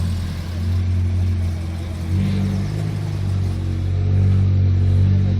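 A car with a non-standard exhaust rumbles and revs at a motoring social event, a deep throaty drone that swells steadily louder and closer over a few seconds.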